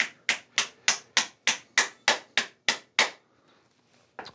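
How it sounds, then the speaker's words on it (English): A small hammer taps about eleven times in a steady, even rhythm, sharp and close, then pauses briefly before one softer tap. "There's a good little hammer,"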